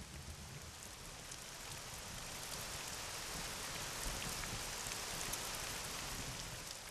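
Late-summer rain falls in the Velka Fatra mountains, a steady, soft hiss of drops on surfaces that holds an even level throughout with no voices.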